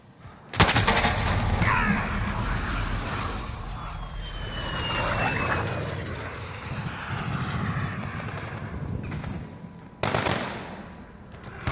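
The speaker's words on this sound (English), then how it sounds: "Enemy VTOL jet in the AO." Enemy VTOL jet in Call of Duty Warzone roaring overhead amid a dense, loud combat soundscape of engine noise and bursts of gunfire, continuous from start to finish.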